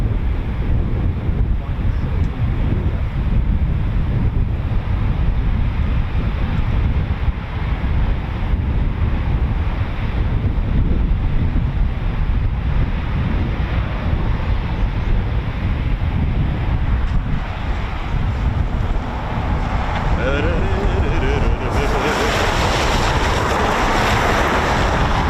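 Strong wind buffets the microphone in a loud, constant roar at RAF Coningsby, with rougher gusts near the end.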